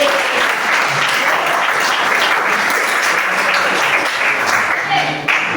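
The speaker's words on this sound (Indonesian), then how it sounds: "Tepuk tangan buat kita semua." A high school history class applauds together, a dense, loud and continuous clapping that fills the room for several seconds before fading slightly at the end.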